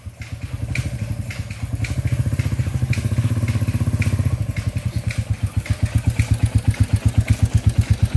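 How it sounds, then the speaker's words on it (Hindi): A brand-new Royal Enfield Classic 350 BS6 motorcycle's single-cylinder engine idles close by with a steady, even thump, revving slightly partway through before settling into a strong, regular pulse. "ये जो गाड़ी है आपका ये BS6 मॉडल है और ये बिल्कुल नया बाइक है।"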